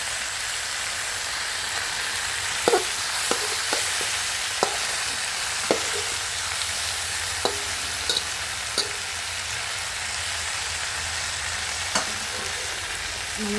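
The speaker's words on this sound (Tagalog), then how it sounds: "Palutin na natin yung kamatis." Tomatoes sautéing in a pan for salmon soup, a steady bright hiss of frying with scattered light utensil taps and stirring clicks, continuous and close.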